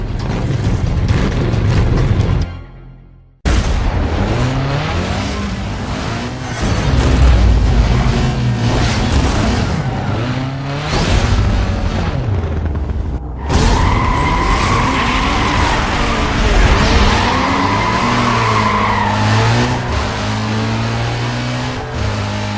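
Race cars in a Need for Speed Most Wanted video game race roar loudly and continuously, engines revving and shifting with tire skids and squeals, a brief cut to silence early on, with steady game music underneath.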